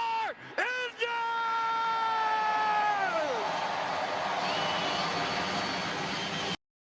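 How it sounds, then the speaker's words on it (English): Racing truck engines fire up together at Martinsville under the lights, a loud sustained roar with rising, sweeping tones early on that settles into a steady drone before cutting off abruptly. "start your engines!"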